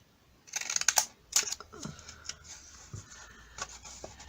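A few crisp snips and clicks of decorative punch scissors cutting paper, close by, coming in short bursts with brief pauses between them.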